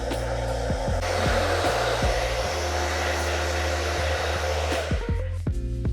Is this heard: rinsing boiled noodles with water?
no